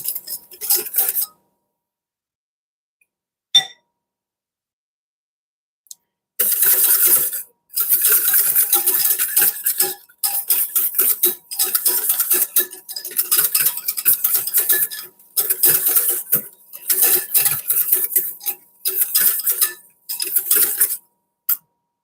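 A whisk beats butter into béarnaise sauce in a metal bowl, giving quick rhythmic scraping and clinking in long bursts separated by short pauses.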